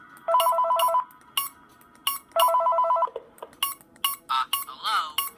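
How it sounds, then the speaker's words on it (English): A telephone rings inside the horror video game Five Nights at the Wiggle House 3, two bursts of rapid trilling electronic rings with a pause between, followed by clicks and short game noises, no talking. "All right, we get a phone call."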